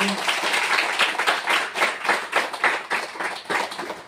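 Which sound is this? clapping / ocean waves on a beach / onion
clapping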